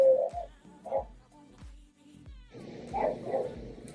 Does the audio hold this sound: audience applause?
no